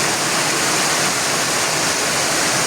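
Floodwater rushes steadily around a submerged temple, a dense, continuous roar of flowing water close by with no pauses and no voices.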